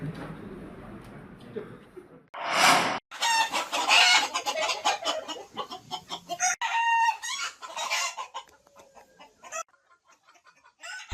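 Free-range laying chickens on a village egg farm in Badung, Bali, cluck busily with a rooster crowing loudly near the start, followed by a dense, overlapping chorus of clucks and calls.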